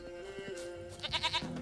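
A goat bleats in The Witcher 3 game, a short wavering, nasal cry that sounds near and fairly loud at the end of the clip, over a soft droning game background.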